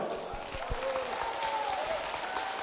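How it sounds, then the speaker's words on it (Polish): A concert audience applauds: a steady wash of many hands clapping at moderate volume with a faint murmur of voices throughout, sounding somewhat distant. "Duże brawa proszę!"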